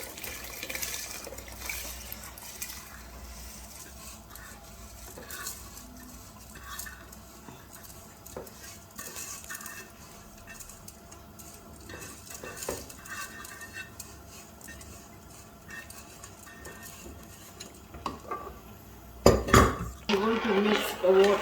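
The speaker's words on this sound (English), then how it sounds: "to mix the water and rice together for a few times" Rice and water being stirred together in a pot for vegetable biryani, with a spoon scraping and clinking against the metal in scattered knocks over a steady low simmer, ending in a louder burst of clattering and splashing.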